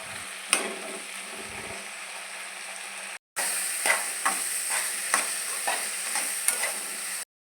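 Chopped tomatoes and green chillies sautéing in a little oil in a pan for an Andhra-style chutney, a steady close sizzle broken by repeated scraping stirs and a brief cut near the middle.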